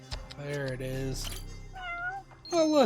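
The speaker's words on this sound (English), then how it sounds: "Oh, look, a cat." A cat in the video game Judgment gives several clear meows, rising and falling, with a human voice speaking between and over the calls.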